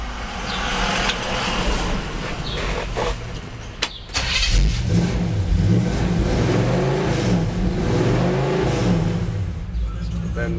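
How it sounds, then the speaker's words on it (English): A hot rod truck with a brand new dual exhaust starts up and revs, a loud low burbling engine note with a brief cranking catch near the start, then a rumbling idle throughout. "That nice hot rod sound."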